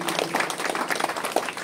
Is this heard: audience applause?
yes